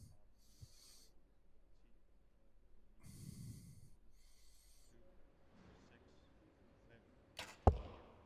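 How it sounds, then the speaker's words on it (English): A compound bow looses an arrow at an indoor target during a women's U21 bronze-medal archery match: soft rustles and breathy whooshes lead up to one sharp, loud thwack of impact near the end, with quiet hall ambience throughout. "They shoot 15 arrows for total score"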